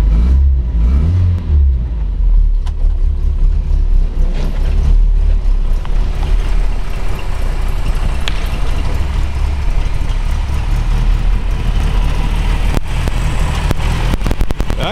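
A 1962 Morris Mini Cooper Traveler wagon's small Austin four-cylinder engine running steadily and loudly throughout, with a low rumbling idle and occasional mechanical clicks.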